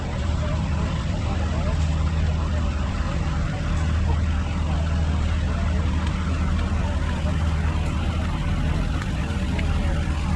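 An Allis-Chalmers Model D14 tractor engine idles at a parade with a steady low rumble and constant drone, close by and loud throughout.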